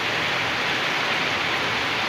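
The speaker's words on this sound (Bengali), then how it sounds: "বৈশাখের প্রথম বৃষ্টি এটা।" The first rain of the Baishakh season pours down in a steady, even hiss of dense rainfall, constant and fairly loud throughout with no voices.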